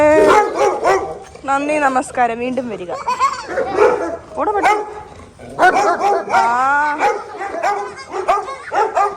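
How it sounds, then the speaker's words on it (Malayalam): A dog barks and yelps nearby in bursts, mixed with people talking over it. "പട്ടിയാ"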